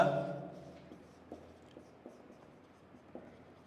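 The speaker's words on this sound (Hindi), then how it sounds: "चलो पहले मैं क्वेश्चन लिख देता हूं पूरा" Pen writing out an exam question, faint soft scratches and light taps in an irregular rhythm after a brief spoken phrase fades at the start.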